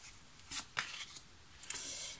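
A deck of tarot cards being cut by hand, a few soft, brief papery swipes and taps, close and quiet.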